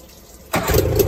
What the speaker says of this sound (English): we're ready to start the engine.